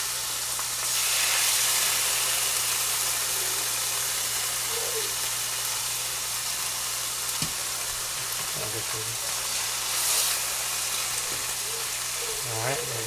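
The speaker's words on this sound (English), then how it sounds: "toss the chicken in the pan once it's hot" Chicken pieces fry in a hot pan with a steady, loud sizzle and hiss that holds throughout, with faint stirring and a few soft clatters near the end.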